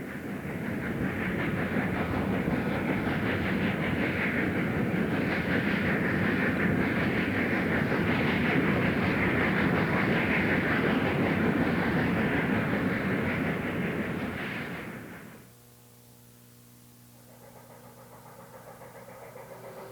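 A Camelback consolidation steam locomotive hauls a freight train through Joanna, a loud, continuous rumbling roar of engine and rolling cars. The sound cuts off sharply near the end, leaving a faint low hum.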